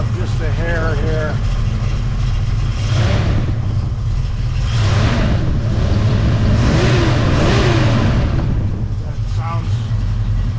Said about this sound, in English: We'll rev it up just a hair here.